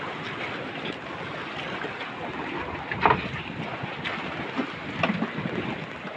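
Rough sea waves slosh and wash around a fishing boat out on open water, hunting yellowfin tuna, with steady wind noise buffeting the microphone and a few louder splashes standing out over the continuous roar.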